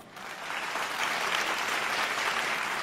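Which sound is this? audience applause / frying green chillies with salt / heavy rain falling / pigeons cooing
audience applause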